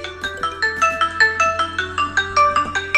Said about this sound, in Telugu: ఫైండ్ ఫోన్ అన్న వెంటనే మీ ఫోన్ రింగ్ అవుతుంది